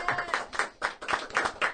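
Audience at a Christmas comedy stage show claps in several quick bursts, fairly close and lively, with scattered voices mixed in.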